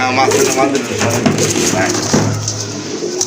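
Large crested pigeons coo in soft, low, throaty bursts close by, mixed with ongoing chatter and background noise.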